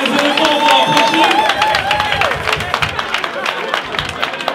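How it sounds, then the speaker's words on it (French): A crowd in Paris claps and cheers for Ivorian artists performing a tribute, amid loud music with a wavering melodic line, voices mixed in, the clapping growing more distinct toward the end. "Applaudissez pour la Côte d'Ivoire, s'il vous plaît"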